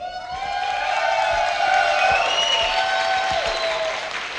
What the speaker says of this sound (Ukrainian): Я теж аплодую, хоча в мене руки зайняті.